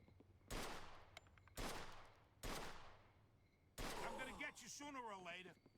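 Mafia II gunshots crack out as three sharp, evenly spaced shots with decaying tails, followed by a fourth blast that runs into game noise and a voice talking.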